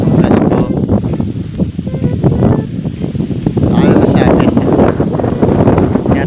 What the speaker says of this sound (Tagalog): Tapos, lakas yung hangin.